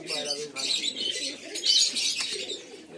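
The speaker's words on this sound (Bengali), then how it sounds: "পায়রা খুব সুন্দর, নতুন পায়রাটা কালেকশন করেছে, পায়রা বেশ ভালো।" Fancy pigeons in a loft coo and chirp in close, overlapping calls with a faint flutter of wings.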